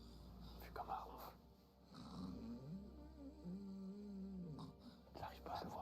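A person snores while deeply asleep, a faint, slow rumbling breath repeating softly under occasional low voices nearby.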